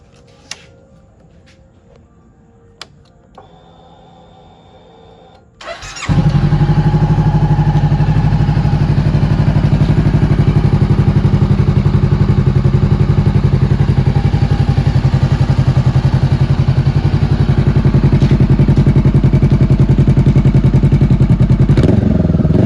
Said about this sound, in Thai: เดี๋ยวผมพามาสตาร์ทฟังเสียงท่อ เจ้าท่อใบนี้นะ